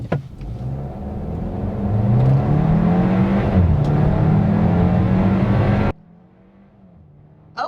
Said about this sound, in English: this is how it looks off the line when in sport mode